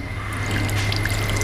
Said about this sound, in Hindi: अब यहाँ पर दोस्तों हम इसके अंदर पानी ऐड करके इसका अच्छे से डो लगाकर तैयार करेंगे।